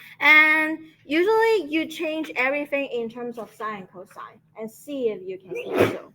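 A single sneeze bursts out sharply near the end, following steady lecturing in a trigonometry class room.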